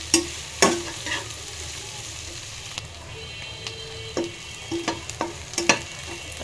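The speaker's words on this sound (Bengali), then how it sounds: "একটু ভেজে নিচ্ছি, কিছু পেঁয়াজ দিয়ে নিয়েছি।" Onions and spices frying in a pan, a steady close sizzle broken by sharp scraping clicks of stirring, with no voices.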